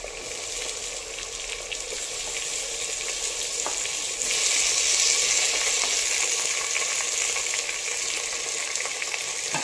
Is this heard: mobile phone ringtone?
no